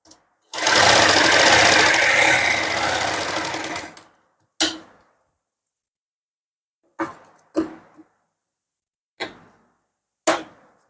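Sewing machine stitching a suit neckline with buckram: one loud, steady whirring run of about three and a half seconds, followed by five short, separate bursts of stitching with quiet gaps between them.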